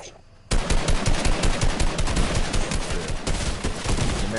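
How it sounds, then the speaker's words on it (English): Gunfire in a video-game battle aimed at the player, starting suddenly after a quiet half-second: dense, loud, continuous machine-gun bursts with rapid repeated shots that fill the rest of the clip. "Oh, somebody just shot at me."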